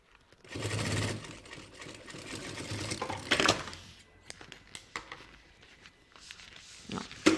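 A sewing machine runs steadily, stitching the seam of an insulated thermal box bag, then slows to a stop and gives way to scattered small clicks and handling noises. No one speaks.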